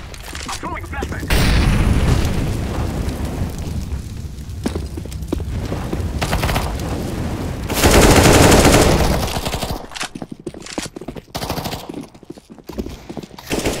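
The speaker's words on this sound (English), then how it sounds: "I'm throwing a flashbang." Flashbang grenade going off in a competitive multiplayer shooter match, a dense loud burst with a broad roar swelling around the middle, surrounded by game gunfire, thuds and players talking over voice chat.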